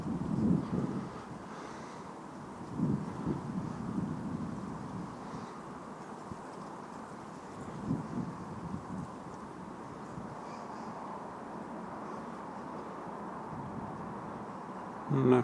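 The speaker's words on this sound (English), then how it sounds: "wind is picking up as well" Wind gusting outdoors beside fast-flowing water during chub fishing, a steady low rumble with several louder buffeting gusts against the microphone.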